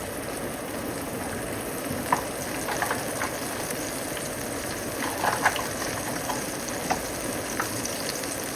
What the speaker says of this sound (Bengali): ভালো করে মশলাটাকে এখন কষিয়ে নেব।